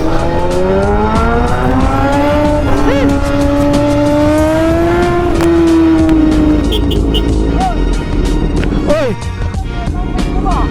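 A 2024 Kawasaki ZX6R sport bike with an aftermarket MotoGP-style exhaust revs near the listener, its loud tone climbing and dropping across several throttle blips, with voices mixed in.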